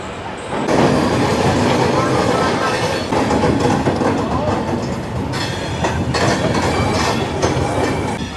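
Shaheed Kranti Superfast Express train pulling out of Anand Vihar station from platform 1, a loud, steady rumble and rattle of rail cars with rhythmic clatter of wheels over joints, continuous throughout.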